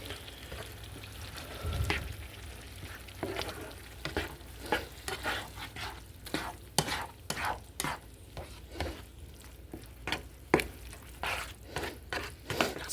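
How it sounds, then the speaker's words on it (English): Korean sloppy joe sauce being stirred and scraped around a skillet, with soft wet scraping strokes coming in an irregular rhythm, close and fairly quiet, with faint sizzling underneath. "we're going to go ahead and get this all mixed up and incorporated"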